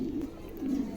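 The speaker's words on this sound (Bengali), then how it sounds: "চমৎকার এক জোড়া কবুতর" A pair of Maltese pigeons coo softly and close by, giving two low throaty rolling coos with a short gap between them.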